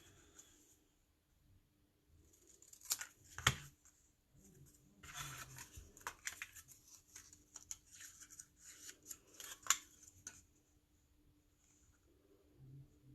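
Scissors trimming paper for a handmade stamped card, heard as a scattering of quiet, crisp snips and paper rustles spread through the middle of the clip against a near-silent background.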